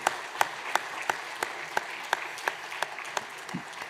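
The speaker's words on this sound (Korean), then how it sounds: "우리 박수로 축복해 주시기 바랍니다." Church congregation at a Korean Christmas Sunday service applauds, with steady clapping under a regular pattern of sharper, evenly spaced claps, fairly close and continuous.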